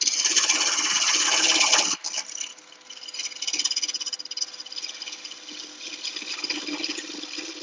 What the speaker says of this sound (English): I'm just going to use the carbide tool.